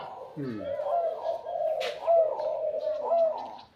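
A tame bird at a house front gives a run of close, repeated throaty coos, fairly loud, with a person's voice briefly mixed in.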